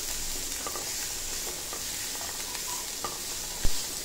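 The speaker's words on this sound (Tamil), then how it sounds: "இது நல்லா நீ வதங்கட்டும்." Ingredients sautéing in a pan for kara paniyaram, a steady close sizzle with light stirring scrapes and a sharper knock near the end, with no talk.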